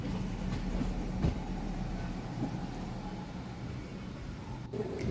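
A passenger train on the Madurai–Sengottai–Punalur–Kollam route rumbles steadily from inside a carriage, with a continuous low roar and occasional faint clicks of wheels on rail joints.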